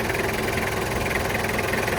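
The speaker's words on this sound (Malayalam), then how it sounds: "ഇതാണ് എൻജിൻ സൗണ്ടും" A Toyota Qualis engine idles steadily up close in a service setting, a continuous low rumble with a faint knocking texture and no talk over it.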